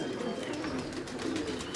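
Pigeons kept by a pigeon fancier in PIA Colony cooing close by, soft repeated rolling coos in a steady rhythm.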